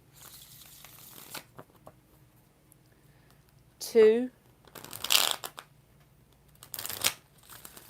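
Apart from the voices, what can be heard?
shuffling tarot cards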